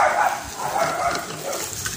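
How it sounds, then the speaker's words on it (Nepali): A dog barks in the forest near a Nepali village: a few rough, mid-distance barks that repeat steadily over a constant outdoor background. "कुकुर भुक्दैछ जङ्गलमा"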